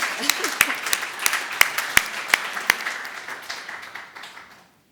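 A small crowd applauds with scattered, distinct claps that fade out gradually over a few seconds, fairly close and not very loud.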